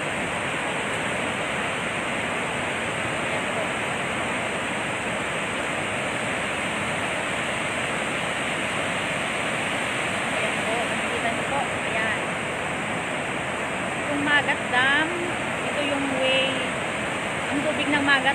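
Floodwater released from the Magat Dam during Typhoon Ulysses rushes out in a loud, steady broadband roar that continues unbroken, with faint voices briefly rising near the end.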